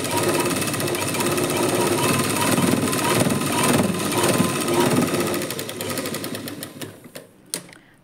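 A sewing machine runs a steady, rapid rattling stitch along a lining blouse seam, loud and close, slowing and stopping with a few final clicks toward the end.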